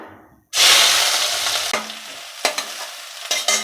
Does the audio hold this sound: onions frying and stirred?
yes